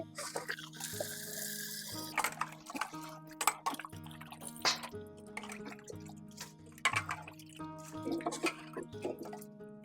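Tilapia fish washed by hand in water in a bowl, with close splashing, dripping and sloshing in irregular bursts against a quiet background.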